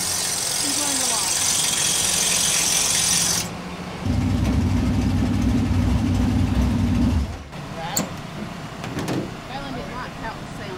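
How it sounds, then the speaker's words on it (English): A dirt late model race car idles at Toccoa Speedway, its hood pins rattling. A loud, hissy broadband roar gives way to a rough, low, steady engine drone for a few seconds, then drops to quieter rumbling. "Watch those hood pins rattling."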